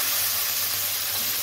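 A baing fish, an eel-like fish, is laid into a small amount of hot oil in a heated kadai, producing a steady, close hissing sizzle that holds even for the whole moment, without speech.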